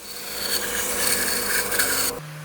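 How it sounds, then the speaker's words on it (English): Rough hand sanding of a bandsaw-cut scrap wood piece makes a continuous close scratchy rasp that lasts about two seconds, then stops abruptly, leaving a low hum. "Give it a rough sand to remove any of the bandsaw marks."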